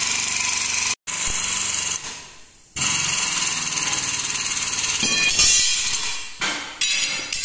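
A Rotta foot-pedal tyre bead breaker runs while repairing an 18.4-26 tractor tyre, giving a loud, continuous mechanical grinding and rumble. The sound is broken by a few abrupt cut-offs and restarts.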